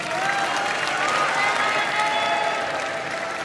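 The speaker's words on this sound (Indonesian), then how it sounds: "Waktunya memberikan tepuk tangan untuk seluruh pasangan calon" An audience at a 2024 East Java gubernatorial debate applauds the candidate pairs, steady dense clapping from a large crowd sustained for several seconds.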